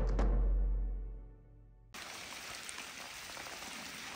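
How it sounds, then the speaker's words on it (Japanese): Heavy rain pours steadily and evenly after a brief tonal sound at the start fades out, with a broad, dense hiss that stays loud and unbroken at the overgrown grounds of a 200-year-old abandoned grandmother's house. "かなりの大雨"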